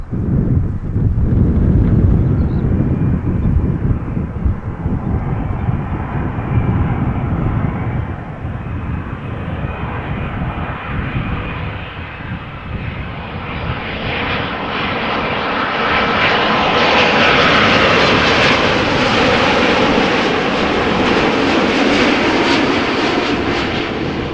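Boeing 787-9 Dreamliner arriving at Amsterdam Schiphol from Toronto, Canada, a loud, sustained engine roar that builds as the jet passes close, with heavy wind buffeting on the microphone.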